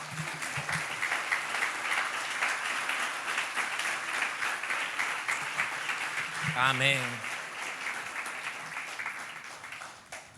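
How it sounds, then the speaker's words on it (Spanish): Church congregation applauds to honour the Lord during a sermon, a steady wash of clapping throughout, with a voice rising briefly above it midway. "Dale un aplauso al Señor."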